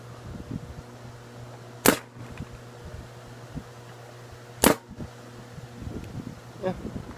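Two sharp, loud shots from a tuned Planet Eclipse GSL paintball marker fired through a chronograph, spaced a few seconds apart, over a low background hum, with faint voice murmur near the end.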